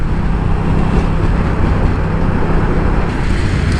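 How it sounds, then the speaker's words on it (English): A Moto Guzzi V100 Mandello S motorcycle engine drones through its stock exhaust with a steady, loud rumble, close by and continuous, with no talking. "This is a stock exhaust, so I'm very happy with the sound of it."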